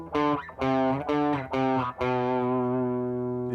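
Distorted electric guitar plays a variation of a riff: four quick, loud, separate notes, then a fifth held note that rings out and slowly fades, with no other sound.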